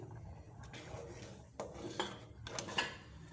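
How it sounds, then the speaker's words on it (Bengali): A cooking-pot lid comes off a pot of Gobindobhog rice khichuri with a few close metallic clanks and scrapes over low kitchen hiss, and nobody speaks. "পাঁচ মিনিট পর আমি আবার হাঁড়ির ঢাকনাটা খুলছি"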